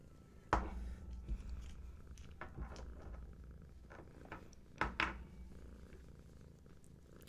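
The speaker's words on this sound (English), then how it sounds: "Oh, those are some extra loud purrs today." A cat purrs close by in a quiet room, a soft steady rumble broken by a few sharp clicks and light taps.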